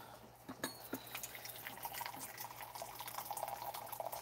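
Hot water pours faintly into a cup, a soft steady trickle and splash with a few small drips at the start, under low room hiss.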